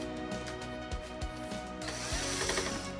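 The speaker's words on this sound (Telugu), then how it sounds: "ఈ స్క్రూ కూడా ఓపెన్ చేసుకోవాల్సి ఉంటుంది." Screws being backed out of the rear panel of a OnePlus 55-inch Q1 QLED TV, a close, steady hum from a driver with a few soft clicks and taps, then a brief rattle of parts.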